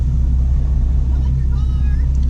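A Nissan 370Z cruises on a road trip, a steady low engine drone and road rumble heard from inside the car.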